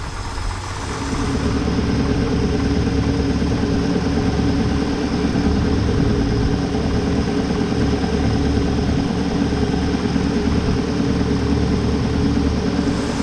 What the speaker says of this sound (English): this engine has a clean bill of health. It just keeps getting quieter